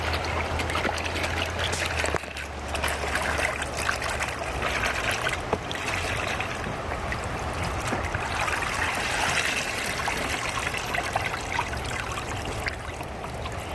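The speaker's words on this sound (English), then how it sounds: "I like to take out all of the soapy water in between as much as possible." Soapy water trickles and splashes steadily as wet laundry is squeezed and wrung by hand at a campsite, with a continuous dribbling wash throughout.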